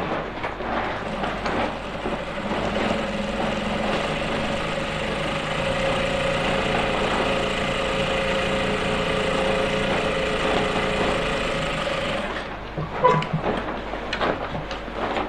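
An electric sewing machine top stitching a senator top, its motor whirring in one steady run for about twelve seconds before it stops, followed by a few light handling knocks.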